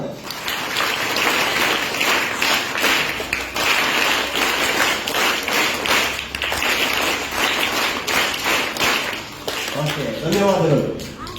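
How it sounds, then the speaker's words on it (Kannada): At a public event honouring a tree planter, an audience claps loudly and steadily for about eleven seconds, a dense crackling roar that thins slightly near the end while a voice begins. "ಒಂದು ಜೋರದ ಚಪ್ಪಾಳೆ."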